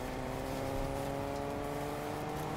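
Fortnite car driving with a constant engine drone and stable harmonic tones, heard steadily and close for the whole stretch, no talking.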